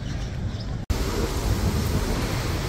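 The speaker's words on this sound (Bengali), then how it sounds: "প্রচন্ড জোরে হাওয়া চলছে আজকে।" Strong wind buffets the microphone outdoors in Seoul, a loud, continuous rushing roar with a brief dropout near the start, heard alone without voices.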